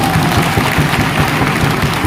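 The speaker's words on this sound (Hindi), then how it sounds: "एक जोरदार ताली चाहूंगा साहब" Loud, steady applause from an audience at an anniversary celebration, dense continuous clapping with no break for the whole stretch.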